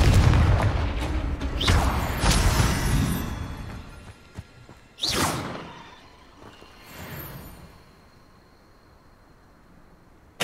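Fiery Confringo spell blasts in Hogwarts Legacy, a fantasy action game, go off as several loud booming explosions with rumbling tails, spaced unevenly a few seconds apart, then fade to a quieter lull.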